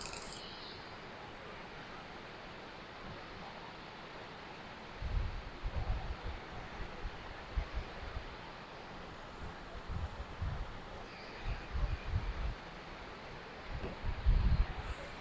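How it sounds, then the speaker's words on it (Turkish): Muradiye Waterfall in Van pours with a steady broadband rush of falling water, continuous and fairly loud, with wind buffeting the microphone in low thumps during the second half. "Muhteşem görüntüsüyle Muradiye Şelalesi."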